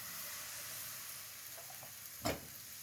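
Gözleme batter meets a buttered hot pan with a steady hiss of sizzling, capped by a sudden louder burst of frying as more batter hits the surface near the end, with no talk.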